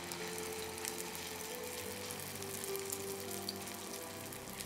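Potato pancake batter frying in hot ghee gives a steady, even sizzle with fine crackling throughout, moderately quiet and uninterrupted, with no talking.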